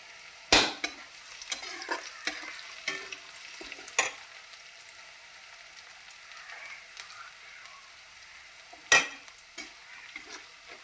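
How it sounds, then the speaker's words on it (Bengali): Garlic and grated ginger fry gently in a pan for a Bengali spinach dish, a soft steady sizzle broken by a few sharp clicks and taps of a utensil against the pan. "রসুনটা ভালো করে ভেজে ভেজে নিতে হবে"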